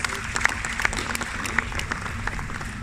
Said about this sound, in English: Please applause for ourselves, applause for yourselves.